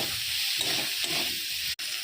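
Eggplant frying in a pan with salt, turmeric and coriander powder, stirred steadily under a constant close sizzle and hiss, with soft scraping strokes about every half second and a brief break near the end.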